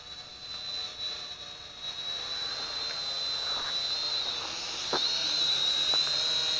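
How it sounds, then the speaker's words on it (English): A Syma X5C quadcopter hovering in a stability test, its motors giving a steady high whine that holds at a constant pitch and grows slightly louder as the drone comes closer, with no talk. "Very stable quadcopter."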